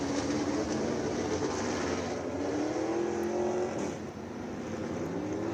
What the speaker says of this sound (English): Cars beginning to roll out.